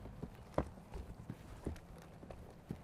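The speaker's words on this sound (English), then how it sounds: "We'll get him trotting." A horse trots in a circle-of-logs training exercise, hooves clip-clopping in an irregular rhythm at moderate distance, fairly faint, with a couple of sharper hoof strikes standing out.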